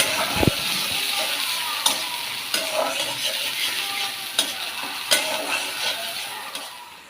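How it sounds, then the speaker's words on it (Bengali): Onion, garlic and green chilli sizzle steadily in hot oil while a spoon scrapes and clinks against the pan every few seconds. "তেলটা গরম হয়ে গেলে এতে পেঁয়াজ রসুন এবং কাঁচামরিচ দিয়ে দিলাম"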